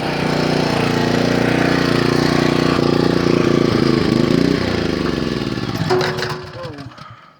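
A Sportsman 2000W dual fuel portable gasoline generator runs with a loud, steady engine drone for several seconds, then winds down and sputters to a stop as it is shut off.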